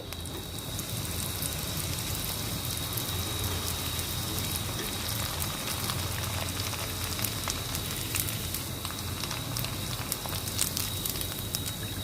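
Flattened rice (chira) fries in hot oil, producing a dense, continuous loud sizzle like heavy rain, steady from start to finish with scattered crackles; no voices.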